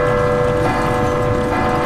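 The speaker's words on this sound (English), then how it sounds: "I ring the bell." A clock tower bell rings loudly in the Resident Evil 2 remake, a sustained metallic tolling tone that fills the short moment before cutting off.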